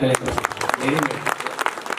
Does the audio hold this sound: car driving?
no